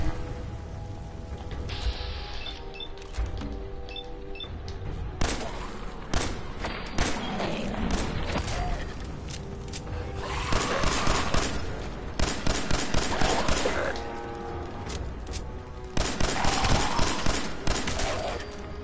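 Fallout 4 video game combat with a grenade blast and repeated bursts of gunfire, loud and dense thumps and volleys coming in waves across the whole stretch.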